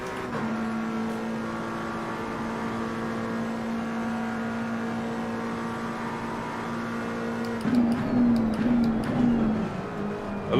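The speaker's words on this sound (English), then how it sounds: "It's that typical BMW 6-cylinder sound." A BMW six-cylinder engine idles with a smooth, steady hum, then briefly revs near the end, heard alone and fairly quiet.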